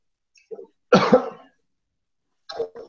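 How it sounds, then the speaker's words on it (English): A single harsh cough bursts out loudly, framed by a few quieter throaty sounds and a short rasp a moment later, with silence in between. "Do you have a choking cough"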